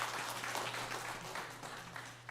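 Church congregation applauding during a Sunday worship service to bless a family's newborn, steady dense clapping at moderate level with a low hum beneath, lasting throughout.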